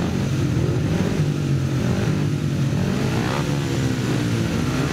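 Speedway motorcycles launching from the gate at the start of a race heat at the Isle of Wight track, engines revving hard together in a loud, sustained roar that rises in pitch as they accelerate away, no voices.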